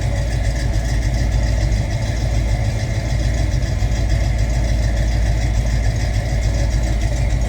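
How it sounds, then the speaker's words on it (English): A 1963 Ford Fairlane 500 hardtop with a Windsor V8 idles with a steady, loud, deep rumble, heard close and continuous with no talking over it. "listen to this, we got a little rumble."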